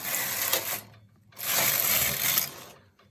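A flatbed domestic punchcard knitting machine carriage slides across a row, two rasping, whirring passes of about a second each separated by a short pause, close and clear.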